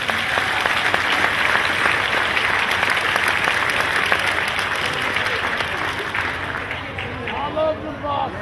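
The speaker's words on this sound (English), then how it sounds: "we will give a round of applause for those" An audience at a speech event at Ripley Castle gives a round of applause, a dense burst of many hands clapping that gradually thins and fades toward the end, with some crowd murmur underneath.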